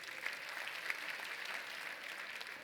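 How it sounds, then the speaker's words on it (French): Conference audience at a Sage Africa Tour event applauding award recipients, a continuous, moderately quiet bed of crowd clapping with a few slightly brighter individual claps poking through. "Mesdames et messieurs, je vous demande de les applaudir"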